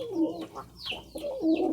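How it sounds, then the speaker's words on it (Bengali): Domestic pigeons cooing close by, a few soft throaty coo phrases rising and falling in a slow rhythm, with no talking over them. "এগুলোর ডাকগুলো দেখেন অনেক সুন্দর"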